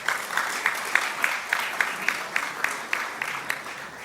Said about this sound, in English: You can go ahead, clap for that.